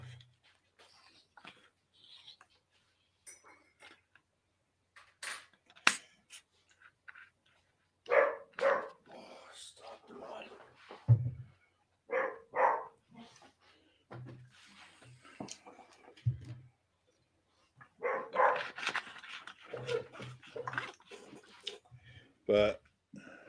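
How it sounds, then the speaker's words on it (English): A dog barks intermittently in the distance during a live World Cup semi-final watchalong. Someone talks over and between the short bursts of barking. "you can probably hear that dog barking in the background, can you?"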